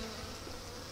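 Honeybees buzz densely around a hive frame of honey during beekeeping work, a close, steady, continuous drone filling the whole moment.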